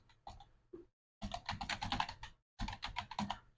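Rapid keystrokes on a computer keyboard while entering data into an Excel spreadsheet: a few scattered taps, then two dense, close bursts of continuous typing with a short pause between them.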